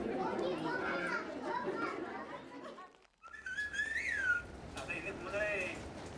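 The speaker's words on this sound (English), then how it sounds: "This is the same sentence whistled, and this is the same sentence spoken." A sentence in Chinantec whistled speech comes as rising and falling melodic whistles in the second half, following a stretch of children playing and chattering in the background.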